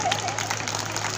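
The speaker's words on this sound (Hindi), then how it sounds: "ताली बजा लीजिए एक बार अपने लिए जोर से" A crowd of village women claps at an outdoor gathering, a dense, even patter of applause heard at moderate distance for a brief moment.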